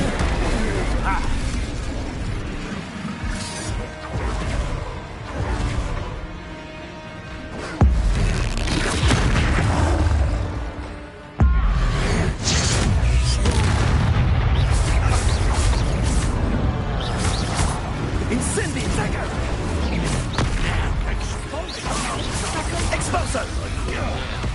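Repeated Expulso blasting spells in Hogwarts Legacy erupt as heavy booms and bursts over a dense, continuous game soundscape, with a brief drop in the middle and voices shouting over the action.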